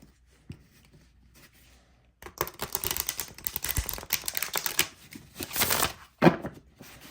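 A deck of oracle cards is riffled and shuffled, giving a crisp, rapid flutter of card edges after a quiet start, in two bursts with a final snap.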